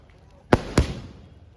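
Two sharp firecracker bangs go off in quick succession at a village Holi bonfire, close and loud, each with a short trailing echo, with quiet outdoor background between.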